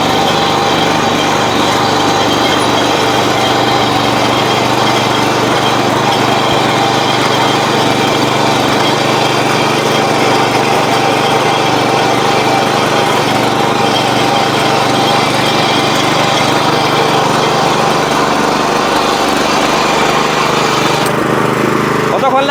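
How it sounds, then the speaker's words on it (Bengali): A power tiller churns hard, never-before-ploughed soil, its small engine droning loud and steady throughout with a rough mechanical rattle, while someone talks over it. "पूरा हार्ड मिट्टी में यहाँ पे जुताई हो रहा है"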